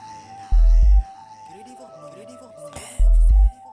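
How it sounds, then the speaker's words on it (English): A sung or spoken vocal line in FL Studio carries reverb and delay tails that smear and repeat the phrases, broken by two loud, deep thumping bursts near the start and end. "the effect you are hearing here is both the reverb and the delay."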